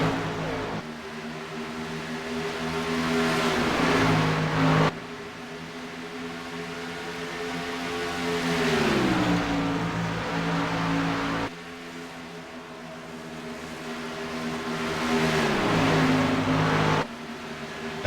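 Stock race cars at the Charlotte All-Star race: a loud, close engine drone rises steadily in pitch, then drops sharply at each gear change, repeating through several upshifts with no talking.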